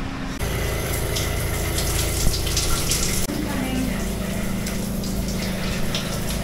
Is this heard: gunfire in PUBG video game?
no